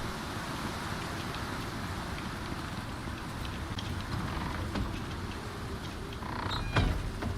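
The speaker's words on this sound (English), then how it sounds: "it looks like we got a storm coming" A rainstorm rolls in within the survival video game Icarus, with a steady, dense hiss of rain and low rumble throughout and a few brief knocks and clatters near the end.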